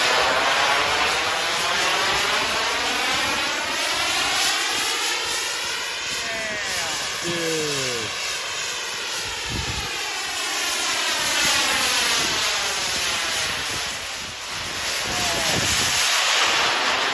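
An RC jet airplane flying overhead, its turbine producing a steady high-pitched whine that swells and fades with Doppler sweeps as it makes passes, with brief excited voices faint underneath.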